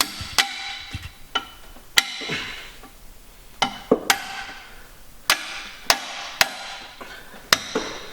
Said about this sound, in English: Hammer and a punch might be the best.